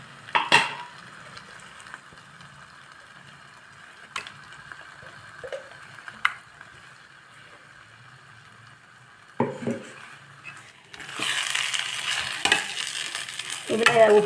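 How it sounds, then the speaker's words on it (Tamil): Ground rice and coconut roasting for uppuma in a pan, quiet scraping stirs with sparse spoon taps, then a louder stretch of dense sizzling and scraping near the end, no talking. "இப்படியே கொஞ்சம் நேரம் ஒரு 5 to 10 மினிட்ஸ் கொஞ்சம் அப்படியே வறுத்துட்டே இருக்கணும்."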